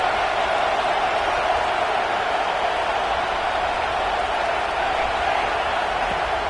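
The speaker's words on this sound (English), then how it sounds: "Man, this crowd really affecting the football game." A loud home crowd roars at a college football game, a continuous wall of stadium noise with no breaks or swells.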